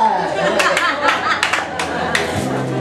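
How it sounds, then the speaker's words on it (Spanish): Audience clapping along during a Spanish television music programme, several sharp bursts of hand claps in loose rhythm mixed with crowd chatter, fairly close. "Y todo el mundo haciendo palmas"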